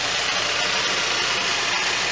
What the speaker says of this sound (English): Yes, that's the engine.